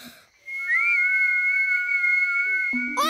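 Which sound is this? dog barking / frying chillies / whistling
whistling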